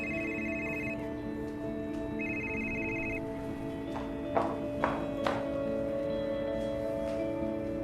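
A telephone rings indoors in two separate bursts of electronic trilling, with a pause between them and a few soft knocks near the end, over a steady background hum.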